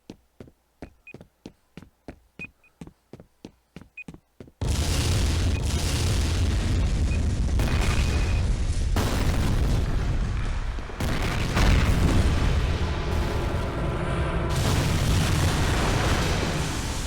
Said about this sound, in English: Always just being thrown from explosions.